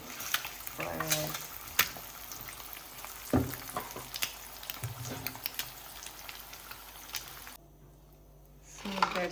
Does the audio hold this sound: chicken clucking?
no